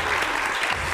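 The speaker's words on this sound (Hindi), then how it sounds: "पाकिस्तान के लिए तालियां बजा देंगे।" A studio audience on a TV show bursts into a short, loud round of applause for Pakistan.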